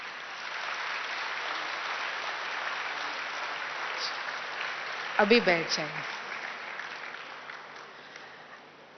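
A large audience claps in a steady, moderately distant patter that fades out toward the end, while a speaker briefly talks over it.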